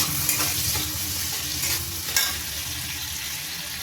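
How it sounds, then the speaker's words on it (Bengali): Tomato and green chillies fry in a pan with salt for a bottle gourd dish, a dense, constant sizzle close up with a couple of sharper stirring knocks, and no voices. "এবার আমি ভালোভাবে ভেজে নেব।"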